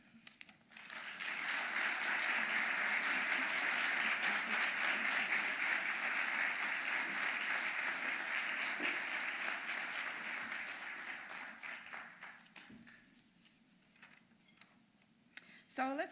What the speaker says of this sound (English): let's have another round of applause for all of the honorees on today